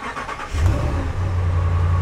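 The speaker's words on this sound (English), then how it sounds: "I got the keys to the Ram, so let's see how this thing sounds" A supercharged V8 in a Ram truck turns over and fires up close by, bursting into a loud, deep rumble that settles into a heavy idle.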